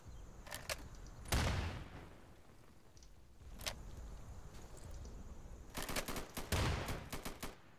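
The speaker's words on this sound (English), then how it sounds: "he's shooting at me" Gunfire in the tactical shooter Insurgency, played on Linux, with a few isolated shots early followed by a quick cluster of bursts near the end, faint overall and heard without talk.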